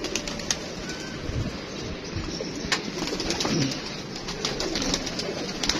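Pigeons coo in a loft during a bird trade, with a steady murmur of cooing and bird noise through the whole stretch and occasional wing flutters. No one speaks.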